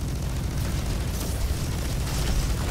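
A potato grenade goes off in the video game Roboquest, giving a loud, rumbling blast that fills the whole moment with thick, crackling noise.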